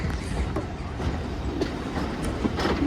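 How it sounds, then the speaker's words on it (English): A Great Western Railway train runs along the line near the Mid Hants Railway, a steady rumble with faint wheel clatter, heard at moderate distance without talk. "There's a Great Western Railway train."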